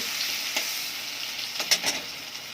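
Turmeric and cumin powder sizzle steadily as they are sautéed in oil for khichuri in a pressure cooker, with a few soft stirring scrapes near the end; no voices.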